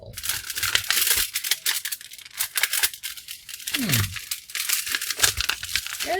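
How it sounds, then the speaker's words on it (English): Glued, stapled rug being cut and pulled up from a floor: close, crackling tearing and crinkling noises in irregular bursts, with scraping rips and brief pauses as the carpet fibers give way. "Let me cut this side over here and see if I can pull it from this side."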